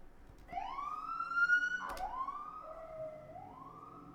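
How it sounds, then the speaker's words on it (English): An emergency vehicle siren wails outside, rising and falling through a few sweeping tones at moderate distance, heard alone against a quiet room. "Don't mind the siren."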